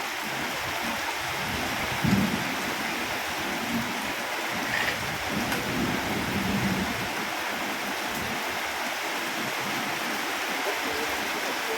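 Steady rain falls outdoors as a continuous broadband patter, moderately loud and even throughout, with a few slightly louder low thuds around the middle and no talk.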